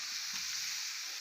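Fried cauliflower, potato and peas hit a hot pan, setting off a soft, steady sizzle that crackles alone for a brief moment.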